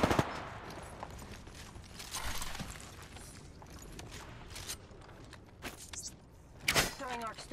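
Prowler SMG fire in the shooter game Apex Legends, heard as short bursts of rapid shots spread across the clip, with a loud burst near the end over busy in-game ambience.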